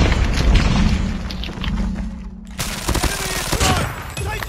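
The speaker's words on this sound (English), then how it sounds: "Grenade out." Call of Duty Mobile combat: a grenade blast and bursts of gunfire, loud and close, with a short dip into near silence before more shots crackle, under game radio voices.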